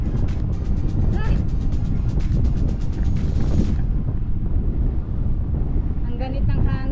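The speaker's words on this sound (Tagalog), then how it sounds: "Masyado mahangin." Strong wind buffets the microphone during a night bike ride on a cycling track, a loud, low rumbling roar that fills the clip while a rider talks over it.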